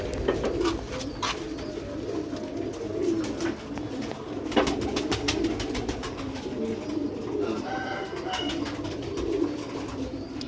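Pure black-faced pigeons of a Sialkoti breed cooing in a loft, soft repeated low coos with faint chirps over a steady background hum, fairly close and continuous.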